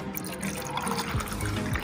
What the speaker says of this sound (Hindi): चलो फटाफट से मैं इसके अंदर पानी डालता हूँ।